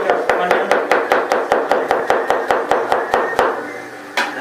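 An onion is chopped with a knife on a board in a small café kitchen while preparing egg noodle chowmein: about fifteen loud, close, evenly spaced chops in a quick rhythm, a brief pause, then one final chop.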